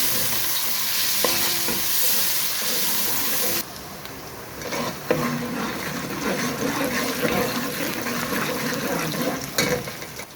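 Onions fry and brown in hot ghee for a restaurant-style palak gosht, a dense sizzle with stirring that drops abruptly to a softer, crackling fry partway through, close and continuous, without speech.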